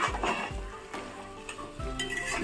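Chicken fry stirred in a hot pan, steady sizzling frying under a spoon scraping and turning the pieces in repeated strokes every half second, close and fairly loud.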